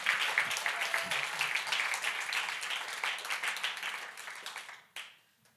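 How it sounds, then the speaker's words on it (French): A church congregation applauds, a dense clatter of clapping that stays strong then tapers off, with a brief burst near the end before fading. "On peut les applaudir."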